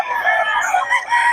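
Several roosters crow overlapping one another at a chicken market stall in Bocaue, a loud, close chorus of strained calls filling the whole moment with no talk.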